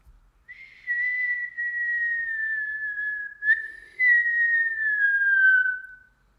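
A person whistles a clear, sustained tone close up, holding long pure notes with a brief break and a small upward flick in the middle, alone in a quiet room.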